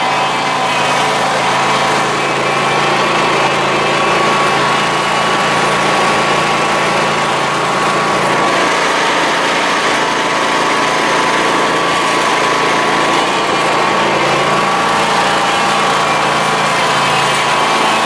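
A lawn mower's small engine drones steadily and fairly loud throughout, a constant buzzing hum with no pauses.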